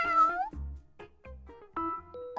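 A pet cat named Makmu gives several short, close meows in quick succession, alone with no other sound.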